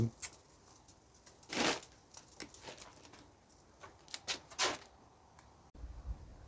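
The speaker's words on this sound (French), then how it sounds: "On va prendre un petit tournevis pour dévisser toutes les vis pour pouvoir tout ça." A small screwdriver backing out the screws on a laptop during disassembly, heard as faint, scattered scraping clicks and short rattles with quiet pauses between them.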